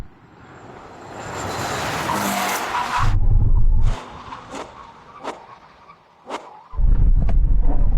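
A heavy SUV, a Ferrari Purosangue or BMW X5 M, brakes hard in a brake test, tires skidding and squealing loudly, with engine roar bursts before and after the stop and no talk.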